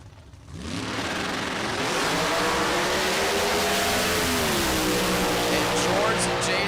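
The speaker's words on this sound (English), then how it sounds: "Right side, George Jaso, that 92 Fox Body Mustang LS turbo application" Drag race cars launch at a racing event, a Camaro and a 1992 Fox Body Mustang with an LS turbo. After a brief quiet moment, loud engine roar swells and rises steadily, with a voice faintly beneath it.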